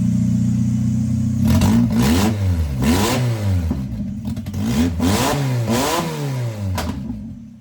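K-series engine swapped into a classic Mini, running and revved repeatedly, with rising and falling rpm sweeps over a steady idle, close and loud with no talking.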